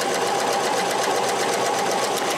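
A Janome HD-1000 sewing machine runs steadily, zigzag stitching along the edge of denim fabric, with a continuous close whirring hum and fast regular needle rhythm throughout.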